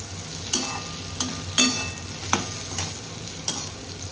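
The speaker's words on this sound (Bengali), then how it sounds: "আলু আর উচ্ছে ভাজাটা হয়ে গিয়েছে।" Potato and bitter gourd slices frying in a pan, a steady soft sizzle broken by several sharp scraping clinks of a spatula stirring at irregular intervals, close and without talk.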